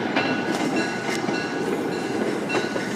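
An MBTA train rolls through North Station, making a dense, steady roar of wheels and carriages with faint rhythmic clacks, loud and close throughout.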